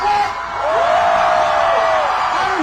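Crowd shouting angrily, a sustained mass of yelling and bellowing voices with one prominent drawn-out cry rising over the roar, loud and near.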